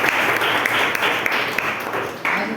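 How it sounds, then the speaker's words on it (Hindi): A church congregation at a Sunday service claps loudly together, a dense, sustained wash of many hands filling the room with a few sharper accents, no voices standing out. "आइए परमेश्वर के आदर में एक जोरदार ताली बजाएं"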